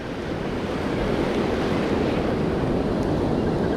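Ocean surf rolls steadily onto an Oregon beach, a loud, continuous wash of breaking waves with wind buffeting the microphone and no voices.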